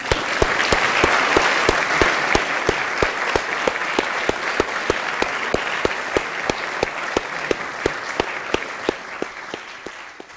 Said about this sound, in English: will you join me in giving them a round of applause?